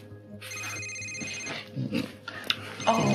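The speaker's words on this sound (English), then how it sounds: "It's a work phone." A work telephone rings in a domestic drama scene, its repeated electronic ringtone chiming in steady bursts under brief overlapping voices and household noise.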